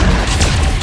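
Cannon fire from warships in the space strategy game Conquest, a loud continuous barrage of booming blasts and crashes packed tightly together with no pauses.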